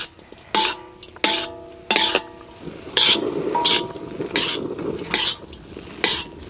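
Chicken noodles being stirred in a pan: repeated loud scraping, clattering strokes of a utensil against the pan come every half-second or so over a low sizzle, close and rhythmic.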